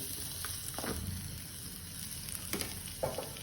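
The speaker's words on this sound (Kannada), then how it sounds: "ಸ್ವಲ್ಪ ತೆಂಗಿನಕಾಯಿಯನ್ನು ಹುರಿಯೋಣ ಅದಕ್ಕೆ ಸ್ವಲ್ಪ ಎಣ್ಣೆ ಹಾಕಿ ಸ್ವಲ್ಪ ತೆಂಗಿನಕಾಯಿ ಹಾಕಿ" Grated coconut fries in oil in a pan with a steady, soft sizzle and a few light stirring scrapes, heard alone at close range.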